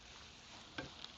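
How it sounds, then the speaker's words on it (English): Quiet, steady hiss of food frying in a pan with a pinch of salt while being stirred, a faint continuous sizzle with a couple of brief clinks, no talking, for a Filipino home-cooked dish. "Do you guys hear the sizzling?"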